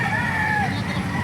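Chickens cluck and a rooster crows in a long drawn-out call, amid steady background noise of a busy poultry market in Bocaue, Bulacan.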